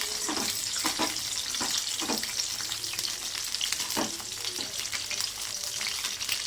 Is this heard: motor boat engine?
no